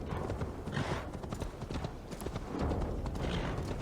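Steady clip-clop of horse hooves trotting at a quick rhythm in a video game, fairly close, with a brief whinny-like tone and no talking.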